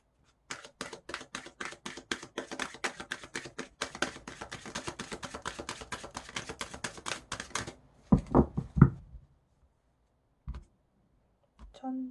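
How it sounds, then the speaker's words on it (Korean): A deck of romance angel oracle cards being shuffled by hand, a rapid run of crisp riffling clicks for several seconds, then a few louder isolated taps and thumps as the cards are set down. "로맨스 엔젤 카드 뽑아볼게요"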